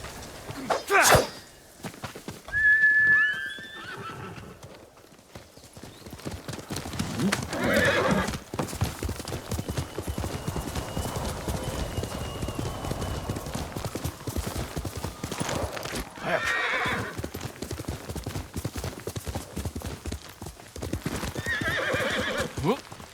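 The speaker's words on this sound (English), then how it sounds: "Good horse, Kage." Hooves clip-clop steadily as a horse moves along in the video game Ghost of Tsushima, with a horse whinnying near the start and brief thumps amid outdoor ambience.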